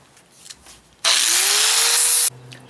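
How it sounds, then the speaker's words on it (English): A power grinder sands a wooden tactical walking stick in one loud, continuous abrasive burst of a little over a second, its motor pitch gently rising, framed by quiet handling noise before and after. "I'm just going to sand this all up with a grinder just to make it look like one solid piece"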